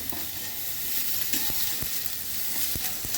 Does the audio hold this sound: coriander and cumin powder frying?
yes